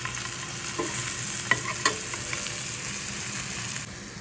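Bread pieces fry in a pan with salt, turmeric and green chili, giving a low steady sizzle broken by a few distinct scrapes and taps of a stirring spatula, close and quiet, no voices.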